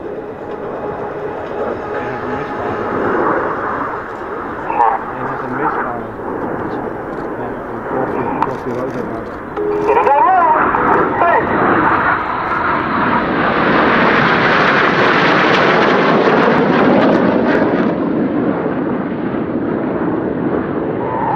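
Red Arrows jets roar overhead during the slalom manoeuvre at the Leeuwarden air show, a sustained loud turbine rush that swells and peaks as the formation passes, with a voice speaking over it early on.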